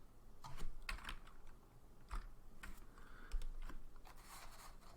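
Irregular clicks and taps of keys on a computer keyboard, typed in short uneven bursts while editing text at a Linux command line, close and fairly quiet.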